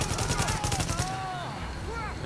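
Rapid automatic gunfire from the video game Tom Clancy's The Division, a steady string of close, loud shots through the first second, then fading into game noise with a few tonal effects.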